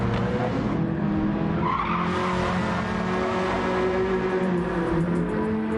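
Race car engine noise roars steadily with a squeal of tires, loud and continuous throughout, no talking, during a GTCA Championship Series race.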